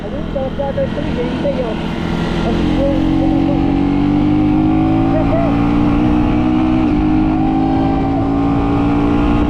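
A 2025 KTM Duke 125 motorcycle with an electronic throttle, its single-cylinder engine revving loud and close, the pitch climbing and holding steady in a sustained drone.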